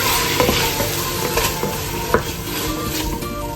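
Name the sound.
sautéing onion, capsicum and tomato paste in a pan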